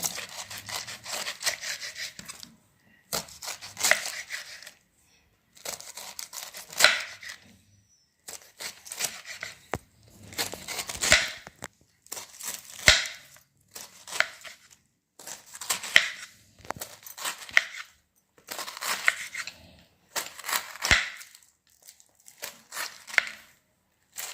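Repeated rough cutting strokes of a knife through a peeled pineapple, coming in steady bursts with short pauses, close and fairly quiet.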